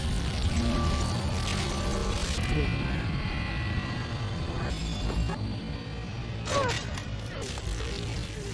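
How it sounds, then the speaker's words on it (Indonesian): A large patrolling aircraft in a Transformers film roars with a steady, heavy engine drone and whooshing passes under a voice talking over it, with the engine noise swelling briefly near the end. "Itu adalah sebuah pesawat besar yang sedang berpatroli di sana."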